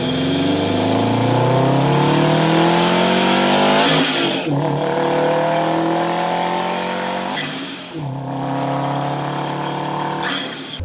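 A Subaru WRX STI engine fitted with an aftermarket intake revs hard three times, each long climb in pitch ending in a sharp drop, loud and close, with no talking.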